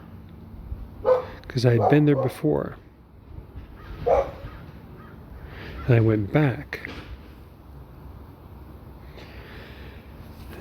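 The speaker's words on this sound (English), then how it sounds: "That's my neighbor's dog. You hear barking." Someone talks while a neighbor's dog barks intermittently in the background, the barks mixed in with his speech.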